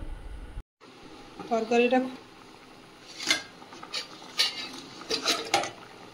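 A lid clatters onto a metal pot of simmering potato curry, followed by several sharp clinks and scrapes of cookware. A voice talks briefly between the metallic knocks in a quiet kitchen.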